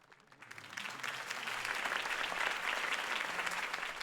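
Crowd applause in the Batman game on PS3, swelling from a quiet start into steady, dense clapping that holds loud for several seconds.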